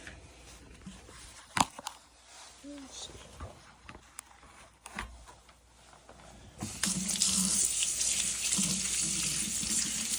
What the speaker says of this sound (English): Just give it some good rinses. I usually will turn the sprayer on.